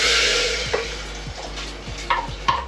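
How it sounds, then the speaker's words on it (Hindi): Mixed lentils hit a pan of frying onions with a loud close sizzle that slowly fades, followed by several scraping stirs and clinks of a spoon against the pan, no talking. "तो दाल डाल दी मैंने।"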